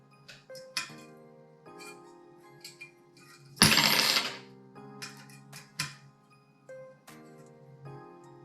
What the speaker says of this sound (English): Let's start the second screw of this bracket.